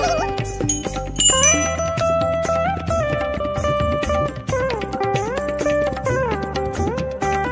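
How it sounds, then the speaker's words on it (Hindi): Many bells hanging on a temple gate at Thalkedar Mahadev ring together in a loud, overlapping metallic jangle of bright tones that keeps going without pause. "पूरे घंटियाँ घंटियाँ लगा रखी हैं यहाँ पे"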